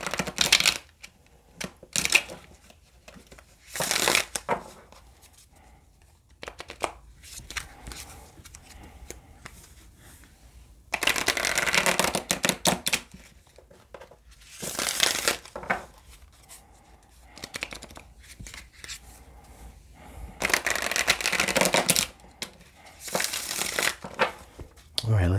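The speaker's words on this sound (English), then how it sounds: "Shuffle one more time." Tarot cards are shuffled in repeated bursts of rapid riffling and snapping, separated by quieter stretches with soft handling and occasional speech.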